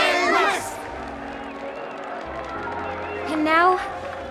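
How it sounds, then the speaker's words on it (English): A crowd in the video game Honkai: Star Rail cheers and whoops with scattered clapping, the noise swelling at the start and again near the end, mixed with voices. "Let us gift our applause and cheers to these brave and dauntless Nameless."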